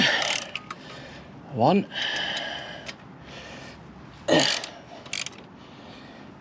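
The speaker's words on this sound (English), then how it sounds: "So apparently it's just a case now of undoing these bolts." Bolts on Royal Enfield Interceptor engine crash bars are undone with a ratchet, giving quick clicking bursts in a couple of short spells, close up, with someone speaking briefly.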